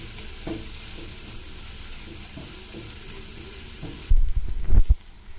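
Pink perch fish masala stirred in a frying pan, a soft steady sizzle with light scraping that turns into a few louder, clattering stirs near the end.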